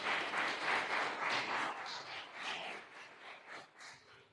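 Church congregation applauding together, a steady wash of clapping that fades slightly toward the end, moderately distant and without speech over it.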